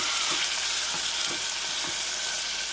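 Tomatoes fry for a beans curry, a steady close sizzle filling the pan with soft rhythmic stirring scrapes repeating about every half second, no voices.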